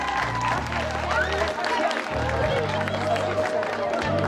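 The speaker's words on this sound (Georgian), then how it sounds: "ტაში დაუგარით ერთმანეთს" A festival audience applauds at the opening of a children's music festival in Ambrolauri, Racha, with a burst of clapping that swells and carries on under a speaking voice and a low musical or hum backdrop.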